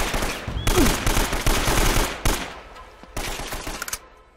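Automatic weapons fire in a firefight in the video game Uncharted: Drake's Fortune: loud, rapid bursts of gunfire with short pauses between volleys, close and continuous.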